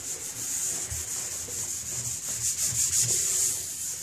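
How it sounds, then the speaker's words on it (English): A slightly damp Scotch-Brite pad scrubs a bathtub surface during tub etching for refinishing, giving a steady, close, continuous rubbing hiss with small rhythmic strokes and no talking. "Now, you just scrub it into the tub surface like this."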